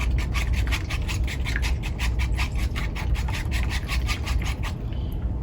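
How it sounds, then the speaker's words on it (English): Eggs are whisked with a fork in a bowl for French toast, a fast, even run of close, scratchy clicks and rubs that continues steadily and stops abruptly near the end. "We're just going to use a fork and whisk that together a little bit."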